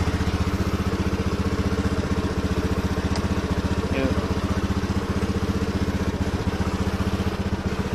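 A Honda Beat FI scooter idles close by, its small engine putting out a steady, even low putter for the whole stretch, with a voice speaking over it at moments.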